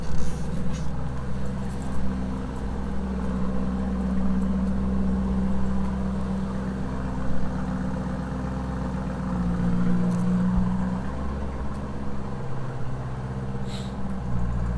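A 2021 Lamborghini Urus with a 4.0 V8 bi-turbo engine idles in Corsa mode, giving a steady, close, deep rumbling burble with slight fluctuations and no revving.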